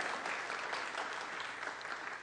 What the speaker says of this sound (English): Give Bob Herz a round of applause.